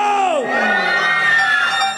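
A concert crowd of girls screams together, high-pitched, loud and sustained for a couple of seconds, with overlapping shrieks that sweep up and down in pitch.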